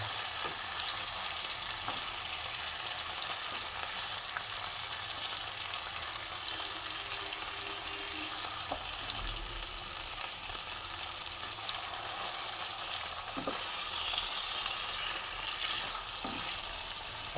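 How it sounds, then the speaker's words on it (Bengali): Hilsa fish frying in a pan gives a steady, close sizzle and crackle that holds without a break the whole way through, with no voices over it. "ইলিশ মাছ বেশি ভাজতে হয় না, জাস্ট খালি এপাশ ওপাশ একটু করে তারপরে মোটামুটি করে নিতে হবে।"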